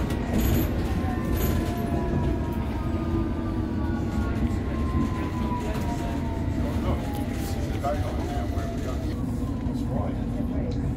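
A London Underground District line train runs steadily, its rumbling motor and wheel noise constant with whining tones rising and falling over the journey, close and fairly loud throughout.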